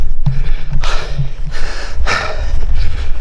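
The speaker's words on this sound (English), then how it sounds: "So you can tell by my heavy breathing." Heavy, labored breathing from a hiker just after a quarter-mile climb up a rough incline in Hoge Kempen National Park, close and loud, with gasping breaths and footsteps underneath.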